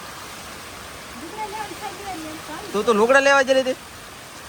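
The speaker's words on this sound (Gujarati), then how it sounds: "દુનિયાનો વરસાદ આવ્યો" Heavy rain pours down outside a shop in a continuous loud wash, while a voice and then another speaker talk over it toward the end.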